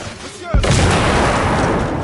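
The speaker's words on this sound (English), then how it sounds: "Grenade!" A grenade exploding in the shooter The Order: 1886, a short quiet lead-in with a faint voice, then a sudden heavy blast that rolls into a long, loud, rumbling roar.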